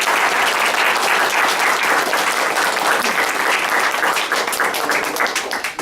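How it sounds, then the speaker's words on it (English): Loud, dense applause from a sizable crowd fills the whole stretch, with some scattered cheering mixed in before it begins to thin out. "Let's give another round of applause."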